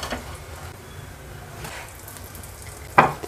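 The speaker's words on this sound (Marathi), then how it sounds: "ह्याच तेलामध्ये आपण हे 3 पॅटी तळून घेऊया।" Prawn patties frying in hot oil give a soft, steady sizzle throughout, with a sharper crackle or clatter near the end.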